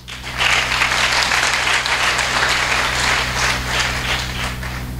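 A church congregation bursts into loud, sustained applause, a dense wash of many hands clapping together that holds steady for the whole stretch with no voices over it.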